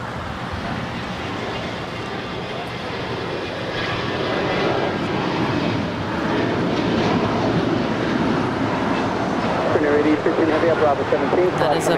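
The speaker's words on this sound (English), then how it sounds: "We do have that SF Airlines 747 making their way down to the 25s for a departure here." Boeing 747 freighter of SF Airlines taxiing toward the runway for departure at LAX, a steady loud jet engine rumble and whine that swells slightly midway, with speech present over it.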